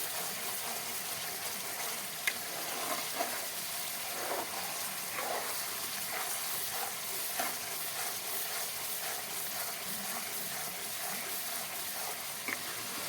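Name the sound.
ghee cooking and sizzling in a pan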